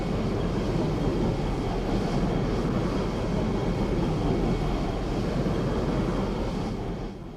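Loud, overlapping spaceship engines from a Star Wars Interworlds mod for X4, a steady, dense roar that holds evenly throughout and fades slightly at the end, with no talk.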